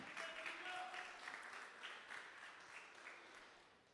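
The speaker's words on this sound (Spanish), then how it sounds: "Den un fuerte aplauso al Señor." A church congregation applauds together, a steady wash of clapping held at moderate distance for the whole stretch, slowly thinning toward the end.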